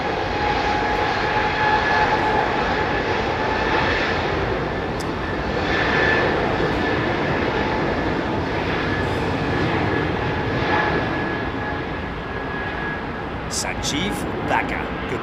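A jet aircraft engine roars loudly and steadily at London Heathrow Airport, a broad continuous rumble that swells and fades slightly, with a few faint clicks near the end.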